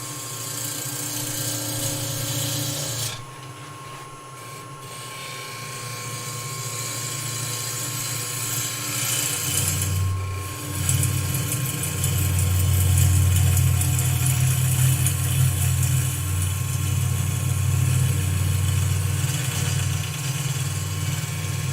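A wood lathe hums steadily as a gouge works the outside of a turning piece, a continuous low motor drone with a faint high tone, rising slightly in loudness partway through, no talking.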